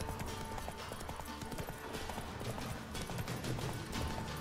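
Horse hooves clip-clop steadily in The Witcher 3, a brisk, even rhythm of close, crisp strikes repeating throughout at a constant loudness, with no voices over them.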